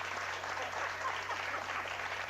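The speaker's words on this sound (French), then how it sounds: "Moi, je trouve que ça vaut une main d'applaudissement, ça." An audience applauds during a stage show, a dense steady wash of clapping that holds level for a couple of seconds.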